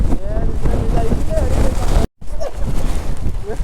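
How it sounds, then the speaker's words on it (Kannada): Strong monsoon wind roars and buffets the microphone in a steady, loud rush on a rainy road in Chikmagalur by a motorbike, cutting out briefly partway through before resuming. "ಏಯ್ ಗಾಡಿ ತಗೊಂಡು ಹೊಡಿಯೋಕ್ಕಾಗಲ್ಲ ಗುರು ಈ ಗಾಳಿಗೆ."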